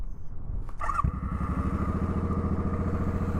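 A Suzuki Boulevard M50 motorcycle starts with a brief clunk and whir of the starter, then settles into a close, steady, throbbing idle.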